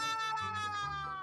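Repeated meowing from a cursed cat character in the Roblox obby Escape The Dungeon Obby, a tonal, wavering cry that holds steady across a short burst, close and clear with no talking.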